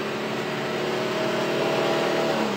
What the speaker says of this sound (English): Listen to those cars go